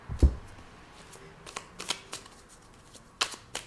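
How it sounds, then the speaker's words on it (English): A Law of Attraction oracle card deck being shuffled close up, a series of quiet riffling flicks and soft taps with short pauses between them, no voices. "Let me clarify that with a card from the Law of Attraction deck."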